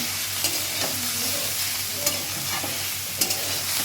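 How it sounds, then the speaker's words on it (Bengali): Drumstick flowers and eggplant fry in a pan, giving a steady broadband sizzle broken by a few sharp spatula scrapes and stirs. It is fairly loud and close, and no one speaks. "তাহলে বন্ধুরা এটা আমি ভালো করে ভেজে নিই"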